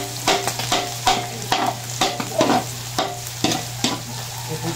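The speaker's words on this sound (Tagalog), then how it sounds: "Lalagay na po yung bawang. Atin muna itong papaplay sa bawang." Garlic frying in oil in a pan while being stirred for palabok, a loud close sizzle with regular scraping strokes roughly every half second, over a faint steady hum and without talk.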